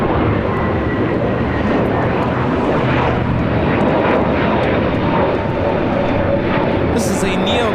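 An Airbus A321neo jet taking off at LAX, its engines roaring loud and steady throughout, a broad sustained rumble that holds without a break.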